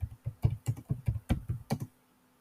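Quick run of about ten crisp keystrokes on a computer keyboard, close and evenly paced, followed by brief silence, no voices.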